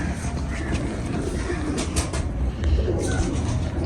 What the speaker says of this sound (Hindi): काने वाला कबूतर है ये